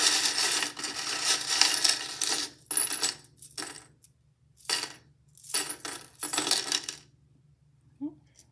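A handful of small metal charms is grabbed and dropped, with bursts of clinking and jangling that come in several clusters of a second or two each, separated by short pauses, close and fairly loud.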